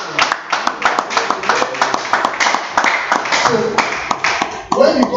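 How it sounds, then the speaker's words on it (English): An audience at a business expo claps in quick irregular bursts, sharp hand slaps close and loud, with voices and a speaker talking over the clapping. "Are you clapping?"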